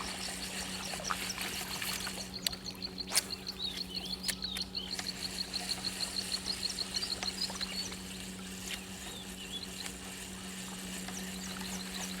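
Water flowing through a channel at a fishing spot, a faint steady trickle with bird calls and scattered clicks over a low hum, no voices.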